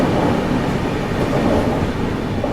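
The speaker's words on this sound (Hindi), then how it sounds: "अभी अपनी ट्रेन स्किप मार रही है गंज बसौदा रेलवे स्टेशन को, और साथ में एक और ओवरटेक मार रही है इस जर्नी का।" An Indian express passenger train runs through a railway station without stopping and overtakes another train standing at the platform, heard as a loud, steady, dense rumble of wheels and carriage noise with no voices.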